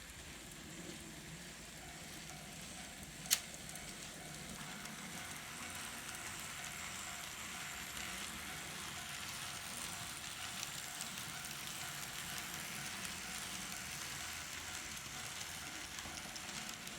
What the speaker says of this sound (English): now it's time to run some trains